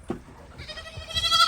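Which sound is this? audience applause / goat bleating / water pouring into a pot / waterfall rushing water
goat bleating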